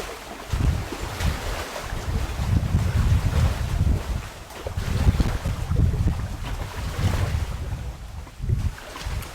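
Ocean waves wash and surge in broad, rolling bursts of noise, loud and close, with gusty wind rumble on the microphone and no voices.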